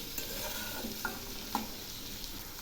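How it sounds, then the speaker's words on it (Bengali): Partly cooked potatoes fry in a pan, with a faint, steady sizzle as they are stirred. A couple of soft utensil clinks break through the sizzle. "আলুগুলো আবার একটু নেড়ে দিচ্ছি, অনেকটাই ভাজা হয়ে আসছে।"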